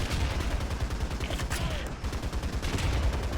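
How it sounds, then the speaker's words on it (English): A tank machine gun fires in War Thunder from an M3 Lee at night: a loud, continuous rattling burst of rapid automatic fire with heavy low-end thump, with no pause for the whole stretch. "let's try to machine gun this guy down, at least"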